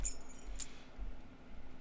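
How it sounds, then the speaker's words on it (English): A small jingle of metal keys clinking on an aluminum key ring in a pants pocket, from the Disco Elysium video game, with brief bright clinks near the start over a quiet hum. "Keys are clinking in the pocket of your flare-cut pants."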